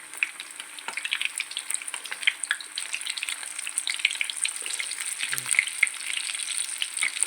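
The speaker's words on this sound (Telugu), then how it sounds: "ఇవన్నీ ఇలా ఫ్రై అవుతున్నాయి కదా ఇలా ఒక్కొక్కటి వన్ బై వన్" Bread tikka pieces crackle as they fry in a pan one by one, a close, lively sizzle with frequent popping spatters and utensil scrapes over a steady hiss.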